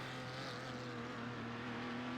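Porsche Carrera Cup race cars approach the pace car at Phillip Island Circuit, a steady distant engine drone with sustained tonal hum, faint and continuous.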